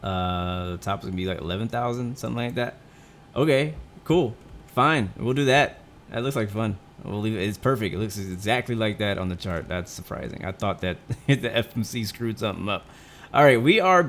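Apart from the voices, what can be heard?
None of the usual background noises is heard.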